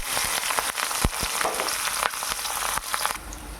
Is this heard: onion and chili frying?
yes